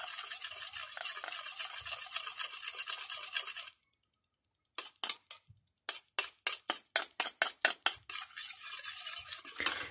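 Homemade hair serum being stirred in a small container, a steady scraping whir for several seconds, then a pause, then a run of quick evenly spaced scrapes that speed back into continuous close-up stirring.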